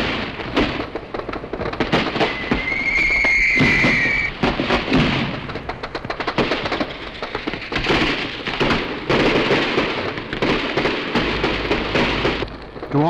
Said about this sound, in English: His 30-minute display had been imported from the Spanish company, which won an international fireworks competition in 1972.